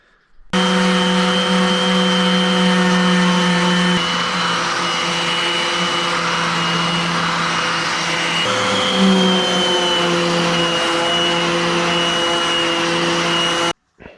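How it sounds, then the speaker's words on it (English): A power sander works over a fiberglass bike fender with a continuous whirring drone. Its pitch shifts slightly partway through, and the sound stops abruptly near the end, with no speech. "I'm going to do some sanding on it, some other stuff"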